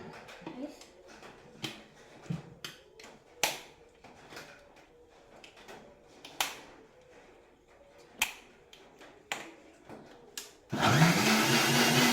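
An ice-cream milkshake sits in a kitchen mixer grinder, with scattered clicks and taps as the jar is readied before the motor roars to life at full power near the end.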